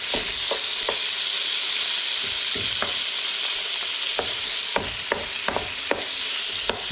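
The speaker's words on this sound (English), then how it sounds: "You just need to cook this pork" Pork frying in a hot pan, a dense steady sizzle close by with repeated sharp scraping and tapping stirs of a utensil, no talking.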